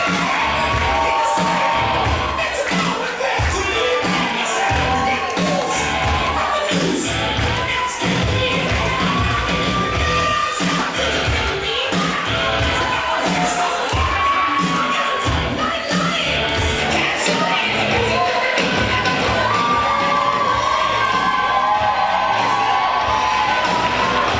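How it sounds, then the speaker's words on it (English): A large crowd at a wrestling match claps and cheers continuously at full volume, with shouts and whoops rising above the dense applause. "getting a great applause from the crowd."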